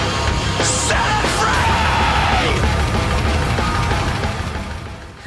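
A loud song ends with a shrill, high-pitched scream-like cry that rises briefly over the dense, full-volume music before the sound tails off.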